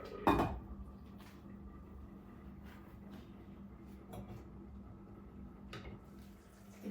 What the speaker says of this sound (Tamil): இன்னும் கொஞ்சம் முருங்கைக்காய் அவியட்டும் மூடி விட போறேன்